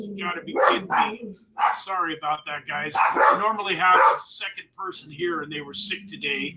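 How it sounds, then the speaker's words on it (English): Dogs bark and yip repeatedly in a home office, sharp bursts scattered through the clip, sometimes overlapping someone speaking close to the microphone. "my dogs think they're saving my life right now from somebody walking past the house"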